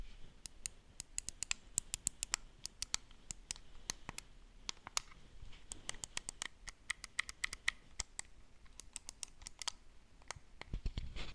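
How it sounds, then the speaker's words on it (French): Micro switch triggers and buttons on a Nyxi Hyperion 2 controller for the Switch, clicked repeatedly in quick irregular runs of crisp, close, fairly quiet clicks. "on retrouve le bruit, on retrouve la sensation du ça commence dur et tic, ça vient cliquer en fait sur le micro switch"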